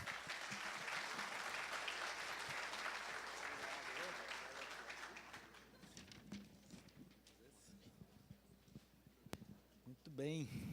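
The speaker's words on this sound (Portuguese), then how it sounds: "Uma salva de palmas para ele." Audience giving a round of applause for a speaker at a talk, dense clapping for about five seconds that thins out into scattered claps and quiet room noise, with a voice starting at the end.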